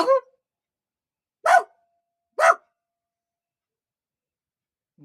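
A man imitates a dog barking with his own voice, giving about four short, separate, loud woofs spaced with silent pauses between them.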